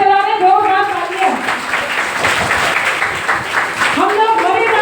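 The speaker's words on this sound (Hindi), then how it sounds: "जोरदार तालियां" An audience at a Bhagavat Katha honouring event in Kakori breaks into loud applause, a dense burst of clapping between stretches of amplified speech and tones that fade out and return.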